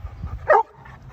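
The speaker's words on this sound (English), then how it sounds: "He does a bark on command." A dog barks once on command: a single short, sharp bark close to the microphone, loud against quiet surroundings.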